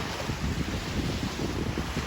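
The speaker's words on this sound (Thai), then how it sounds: "โอ้ย โตคลื่นใหญ่เลยเลย" Rough sea waves surge and crash onto a deserted beach with reddish-orange water, a loud, continuous roar heavily buffeted by strong wind hitting the microphone, with no voices.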